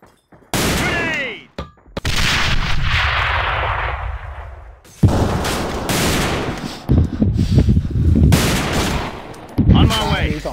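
AVA gameplay: loud bursts of gunfire crack and rattle in repeated volleys, with brief gaps and some metallic clangs between them.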